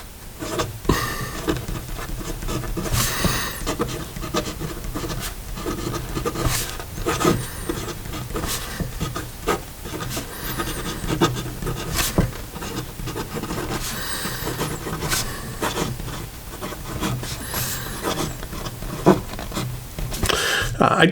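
A fountain pen with a Schmidt steel nib, a Penlux Metallic, scratches across paper in steady, soft strokes, a faint continuous rasp with small taps between words, close and quiet.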